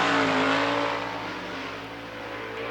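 A dirt-track race car, number 73 out of Princeton, Indiana, runs a qualifying lap at Lernerville Speedway, its engine roaring loud and close at first, then easing into a steadier drone that swells again at the end.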